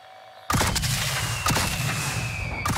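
Enemy gunfire in the video game Warzone, a few sharp loud shots cracking out after a quiet start, spaced about a second apart over a steady rumble of background noise.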